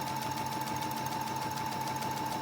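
Sewing machine stitching across fabric while making pattern weights, a steady, continuous whirring hum at moderate volume with no talk.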